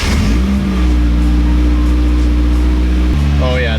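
A Nissan 240SX engine, recovering from a throttle position fault, revs hard and holds a steady high drone, then drops abruptly near the end, loud and close, with a voice briefly audible.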